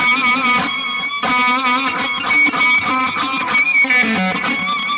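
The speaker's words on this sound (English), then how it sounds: "the first habit is the pinch harmonic. And you might have heard a lot of different guitar players play this" Distorted electric guitar played through a Line 6 Helix tone, with squealing pinch harmonics riding over a dense, sustained lead line, loud and continuous with no talking.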